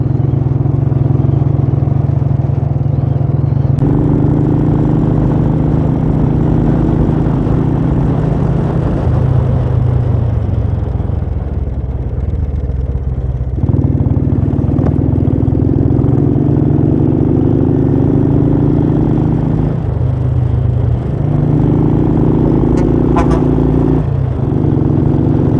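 A vehicle engine drones loudly and steadily on a highway past the Bilikere bypass. Its pitch rises and drops several times as the driver speeds up and eases off. No one speaks.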